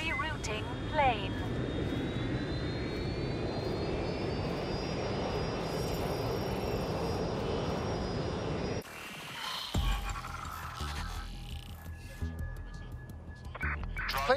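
A plane flying in the game Watch Dogs: Legion, a steady, loud jet engine roar with a rising whine that cuts off abruptly, followed by other game sounds.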